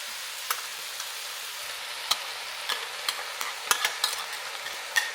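Creamy potatoes with mushrooms and chicken being stirred in a pot, a steady soft wet churn broken by scattered sharper scrapes and clicks of the spoon, close and fairly quiet.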